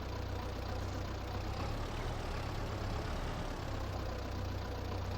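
A tractor with a front loader lifting lime in Farming Simulator 22 drones as a steady, low, fairly faint engine rumble that holds an even idle throughout, with no talking.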